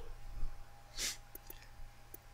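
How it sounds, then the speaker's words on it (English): One short sneeze from a man indoors during allergy season, a quick sharp burst in the middle of a faint, quiet room with light breathing around it. "Sneeze alert."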